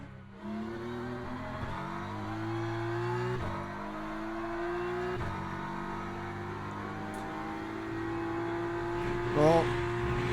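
BMW GT3 race car in the Le Mans Ultimate game, heard from the cockpit as the engine climbs steadily through several gears, each upshift dropping the pitch before it rises again, steady and fairly close.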